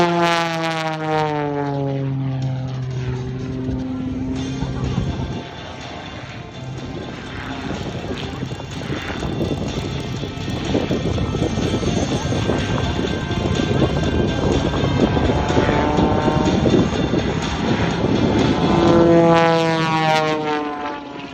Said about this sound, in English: Here comes Michael Wiskus climbing down at over 200